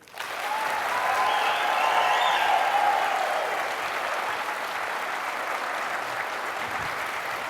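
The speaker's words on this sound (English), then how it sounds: "I hope you could join me in giving Roger a really big round of applause" A keynote audience at a 2013 Atlanta conference bursts into loud, sustained applause, a dense wash of clapping that swells over the first few seconds and then holds steady to the end.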